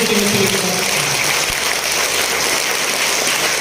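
Dense crowd applause, a continuous wash of clapping at fairly loud level, with a low rumble underneath and no talk.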